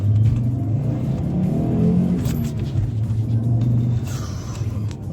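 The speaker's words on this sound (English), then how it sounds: "Listen to the sound of that big 5-cylinder." An Audi 80 Quattro Turbo coupe's big five-cylinder engine accelerates with a loud, steady low rumble and rising revs, heard close and continuous throughout with no talking.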